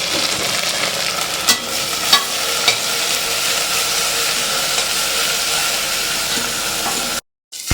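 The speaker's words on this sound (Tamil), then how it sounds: "இஞ்சி பூண்டு பேஸ்ட் போகிறோம்." Fresh ginger garlic paste fries in a hot pan for a mutton dish, a steady loud sizzle broken by a few sharp scraping stirs, then a brief cutout near the end.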